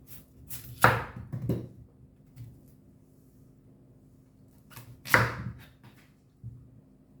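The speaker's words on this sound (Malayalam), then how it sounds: "ഇതിങ്ങനെ എടുത്തിട്ട് ഇത് രണ്ടായിട്ട് മുറിക്കണം" Two sharp knife chops halve a chayote on a cutting board several seconds apart, close and crisp, with quiet handling sounds between them.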